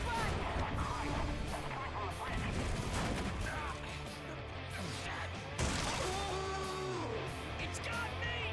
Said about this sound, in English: Stop the bombing run!